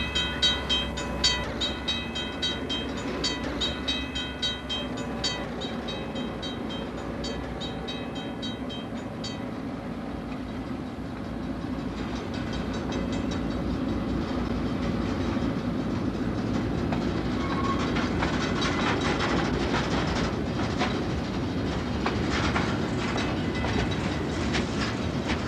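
A descending freight train grinds along with its brakes holding the load, a steady rumbling roar with sharp metallic clicks and squeals early on, then denser rattling clatter, close and continuous throughout.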